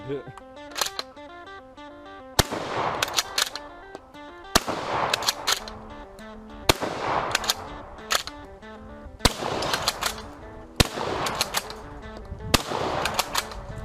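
A bolt-action shotgun fires at old shoes outdoors, six loud, sharp blasts spaced about two seconds apart, each with a ringing tail, with mechanical clicks of the bolt between shots.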